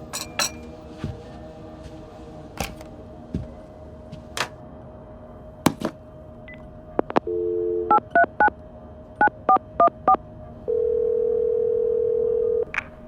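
Telephone dialing in the Vampire: The Masquerade game: a steady dial tone, then a quick series of short keypad tones and clicks, ending with a sustained tone, clear and close with no talk.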